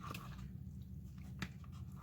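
Crunchy dressed coleslaw being chewed close up, with a few soft wet crunches over a low steady background hum.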